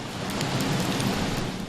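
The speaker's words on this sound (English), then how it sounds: "Another round of rain soaks southwestern Connecticut." Steady rain pours down in southwestern Connecticut, a dense, even hiss of drops hitting the ground that holds at the same level throughout, with no voices over it.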